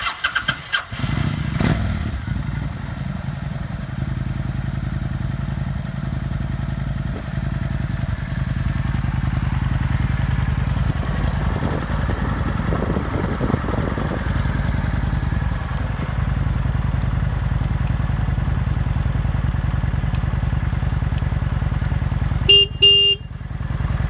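A 2006 Kawasaki Vulcan Classic VN900 motorcycle engine with 6,210 miles runs steadily at a loud, close idle, with some clattering and revving in the middle, ending in a brief rapid beeping.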